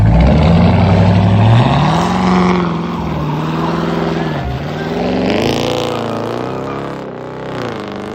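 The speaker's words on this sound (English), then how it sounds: "What do you guys think of that little burnout?" A Dodge Charger R/T with a 5.7L HEMI V8 and straight-pipe exhaust does a short burnout, its loud, raspy engine roaring and revving continuously up close, rising and falling in pitch over several seconds.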